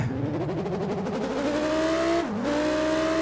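A high-pitched Nissan GT-R R35 engine whine in the game Car Parking climbs steadily, dips sharply as a gear shifts, then keeps revving with a buzzing, synthetic edge.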